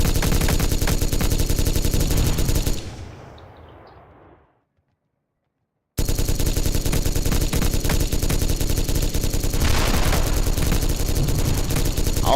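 Heavy, dense automatic fire from big recoiling guns in Gettysburg Armored Warfare, a loud continuous roar that cuts out into brief silence before a second sustained burst resumes, no voices.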